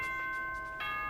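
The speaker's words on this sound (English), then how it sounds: "Ding dong, bing bong." A short Monokuma announcement chime from Danganronpa: two bright bell-like tones, one near the start and a stronger one near the end, ringing clearly over a quiet background.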